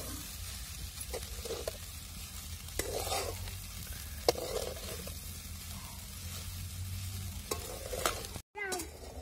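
Crumbled kurdai with salt is stir-fried in a pan, a steady dry sizzle broken by repeated scraping strokes of a spatula, close and alone with no talk.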